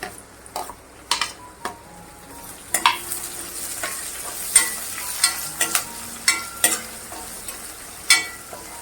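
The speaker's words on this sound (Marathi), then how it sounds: "कांदा आणि कढीपत्ता घालतीये" Onion and curry leaves fry in a pan for a Maharashtrian spicy whole masoor dal, with loud sizzling under sharp, regular metal stirring clanks that come roughly every half second to second.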